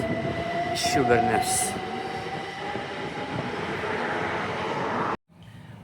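A CTC freight train departs near a container terminal, its horn sounding briefly amid the rumble of rolling wagons and wheel noise, with someone speaking over it.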